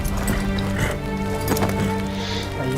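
A horse galloping in the samurai game Ghost of Tsushima, steady hoofbeats under a constant bed of game music at close, loud level, with no clear neigh standing out.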